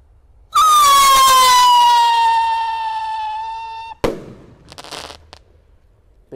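A single Roman candle firework whistles loudly upward with a long, slowly falling shrill tone, then a sharp bang and brief crackle follow.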